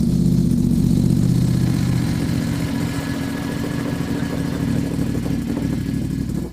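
A Ducati Hypermotard 950 runs with a newly fitted aftermarket exhaust, giving a steady, fairly loud low engine rumble that holds without clear revs throughout, with no talk over it.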